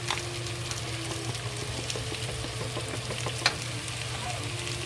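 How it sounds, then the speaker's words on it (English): Sliced yellow squash and pork frying in a pan over high heat, a steady quiet sizzle with light scraping and one sharp tap of a utensil. "Now turn the fire to the high fire and fry it."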